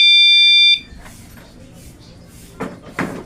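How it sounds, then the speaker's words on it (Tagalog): A motorcycle's anti-theft alarm blares a loud, steady electronic tone for under a second, then cuts off abruptly, leaving faint clicks and handling noises. "Tignan yung alarm ng motor ko."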